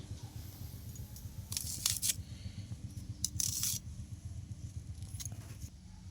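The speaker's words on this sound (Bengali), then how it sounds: "পেঁয়াজটাও সেভাবে কেটে নিব" Onion being sliced with a knife in a kitchen, two short crisp cutting bursts over a low steady background hum.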